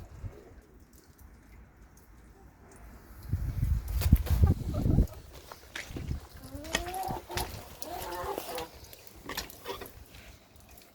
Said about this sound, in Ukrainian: Ось курочка.